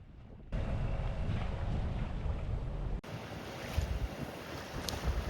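A sailboat motors under engine along a Dutch waterway, with a steady low rumble mixed with wind buffeting the microphone and water rushing past the hull; the texture shifts abruptly partway through, with no voices.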